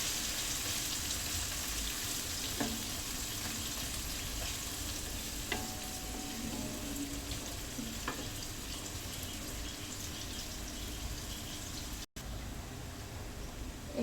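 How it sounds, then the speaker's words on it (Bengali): Sliced onions frying in hot oil for a fish dish, a steady sizzling hiss throughout with occasional scrapes and knocks of a stirring spoon against the pan. "এই তো পেঁয়াজটা ভাজা ভাজা হয়ে গেছে"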